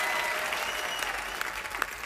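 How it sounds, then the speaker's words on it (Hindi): Studio audience applauding for Honey Singh on The Kapil Sharma Show, a continuous wash of clapping with a few sharper claps and faint cheers, heard alone. "एक बार जोरदार तालियां हो जाए हनी सिंह के लिए"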